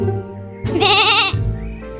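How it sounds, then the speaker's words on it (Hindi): A cartoon goat lets out a single wavering bleat lasting under a second, loud and close, after a brief low musical backing. "तभी वहाँ एक बकरी आती है"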